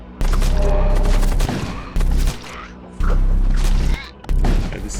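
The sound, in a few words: starship weapons firing in the video game Void War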